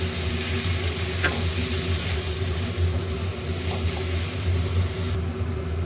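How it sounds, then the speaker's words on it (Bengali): Turmeric, chilli, coriander and cumin powders with salt fry in a pan for egg curry, giving a continuous close sizzle over a low steady hum, broken by a couple of faint stirring clicks. "এবার দেব হলুদ গুঁড়ো, লঙ্কা গুঁড়ো, ধনে গুঁড়ো, জিরে গুঁড়ো, নুন দিয়ে ভালো করে কষিয়ে নেব"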